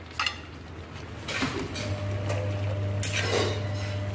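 Tamarind water stirred in a metal cooking pot, a few clinks and scrapes of a spoon against the pot over a steady low hum, close and moderate in loudness.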